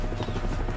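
A helicopter in Far Cry 6 gives off a steady, loud rotor rumble that holds without a break through the whole short moment.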